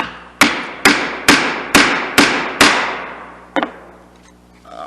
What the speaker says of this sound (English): I prefer to do most of my chiseling and then switch to a super sharp set of chisels